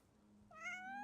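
Bonnie, a cat in the video game Genshin Impact, gives a single short, clear meow, close and rising then sustained, standing alone over a quiet background hum.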